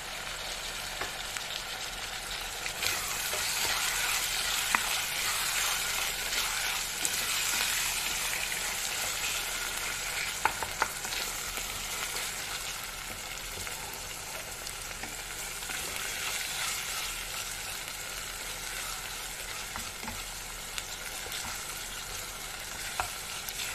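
Ground meat with a spoonful of tomato paste and chopped tomato sizzles and fries in a pan for a purslane dish, with continuous stirring scrapes and crackling throughout, close and steady with no talk.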